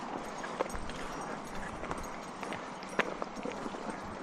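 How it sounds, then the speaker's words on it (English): Horses walking at an RV campground in San Diego, with soft irregular hoof clops spread through a steady outdoor background, moderately distant and fairly faint, with no talk over them. "It's the first horses that I've seen here at the camp."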